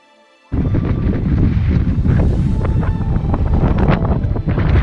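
Strong wind buffets the microphone at high altitude on the trek to Everest Base Camp, a constant loud rumble and roar that begins abruptly and continues steadily.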